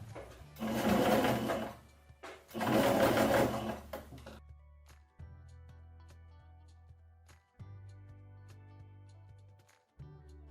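A sewing machine runs a straight stitch along a twice-folded balloon sleeve hem, forming an elastic casing. Two loud, fast stitching bursts are followed by quieter, intermittent runs and soft pauses, all close up.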